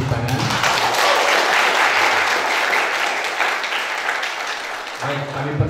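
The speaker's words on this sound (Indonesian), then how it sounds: "Oke, terima kasih, kita beri tepuk tangan." A seminar audience applauds at an international event on inculturation in Catholic missions, a dense, steady burst of clapping lasting about five seconds. A speaker's voice is heard briefly before and after it.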